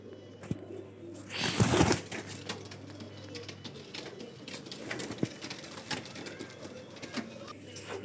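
Golden highflyer breeder pigeons in a Lahore loft cooing close by, soft repeated coos mixed with wing flutters and small clicking and rustling noises, with one louder flapping burst near the start.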